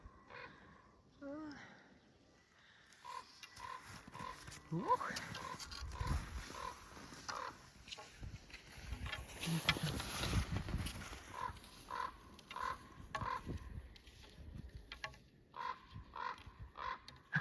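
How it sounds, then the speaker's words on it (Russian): A crow caws a few times in a frost-covered, snowy winter forest beside a ski trail in Ukhta, Komi Republic, in January, heard at a moderate distance under people talking and outdoor noise. "И ворона что-то говорит."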